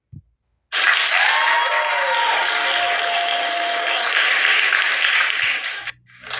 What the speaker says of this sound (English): The round of applause is awesome here